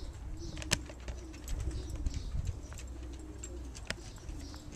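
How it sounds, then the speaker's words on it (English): Calm racing pigeons coo softly and repeatedly in the background. A few sharp clicks and light rustles are heard against a quiet, steady ambience. "These birds very calm pigeons from Larry."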